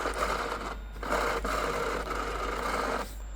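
A worn power window regulator motor on a Porsche 911SC whirs with a strained, buzzing drone, close and steady for a few seconds with short dips as it labours.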